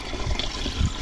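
Water splashes and gurgles steadily as it is poured into a sprayer tank on a durian farm, with a couple of heavier glugs and no talking.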